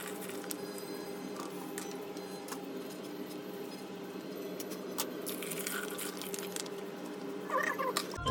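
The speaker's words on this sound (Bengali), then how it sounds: "এই যে আমি দুধ ঢেলে দিচ্ছি।" Milk is poured into a mixture for Delhi-style mohabbat ka sharbat, giving a faint, steady liquid wash with scattered small clicks and splashes and no talking.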